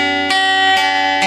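Electric guitar chord picked while skipping two strings, three separate bright plucks spaced evenly apart, each letting the ringing notes sustain over one another, played alone without talking.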